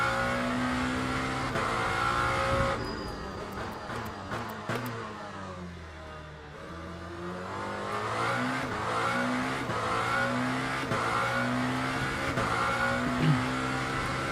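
Racing engines in Le Mans Ultimate, with Toyota hypercars close behind, a steady high-revving whine shifting pitch through upshifts and downshifts, briefly dipping while braking before pulling hard again, loud and close throughout.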